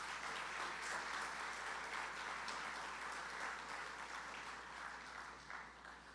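Sustained audience applause at a launch event for a mobile app, a steady, even roar of many hands clapping that stays at one level throughout with a low hum beneath.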